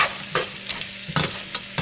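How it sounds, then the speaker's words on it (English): Vegetables sautéing in butter with garlic and parsley salt in a pan, a soft crackling sizzle punctuated by quick scraping stirs in short bursts. "I'm gonna just let these saute in this butter"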